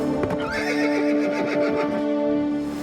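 A cartoon horse neighs loudly as it comes to a stop, a long wavering whinny with hoof clip-clops underneath, near and without talk.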